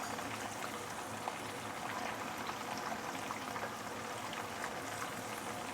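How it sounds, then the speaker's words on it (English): Prawns fry in hot oil for salted egg yolk prawns, a soft, even bubbling sizzle that stays low and continuous throughout, with no voices over it. "you want to fry your prawn for plus minus about 3 minutes"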